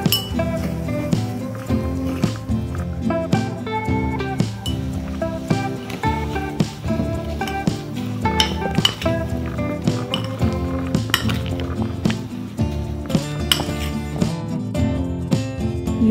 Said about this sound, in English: We have to keep mixing our ingredients